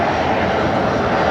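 Qantas A321XLR airliner taxiing at Brisbane Airport toward the new parallel runway, a loud steady jet engine roar that holds evenly throughout.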